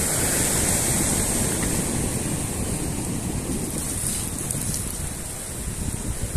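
River water rushes loudly and steadily around a bicycle as it crosses a deep river, a continuous broad wash of flowing water with no talk.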